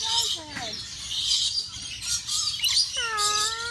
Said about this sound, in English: We're feeding birds here at the San Diego Safari Zoo